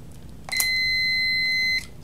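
A multimeter gives a continuity beep while probing a low pressure switch in electrical troubleshooting: one clear, steady, high-pitched tone that holds for just over a second, then cuts off.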